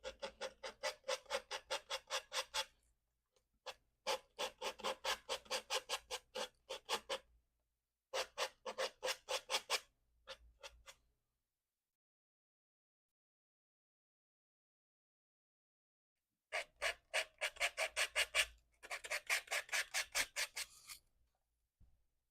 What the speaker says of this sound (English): I'm kind of scraping away and revealing some of that texture.